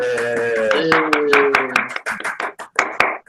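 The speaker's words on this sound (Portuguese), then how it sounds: "Ó, uma salva de palmas" A few people at a spiritist book study session clap, sharp separate hand claps in a loose rhythm that follow a brief voiced tone and grow sparser toward the end.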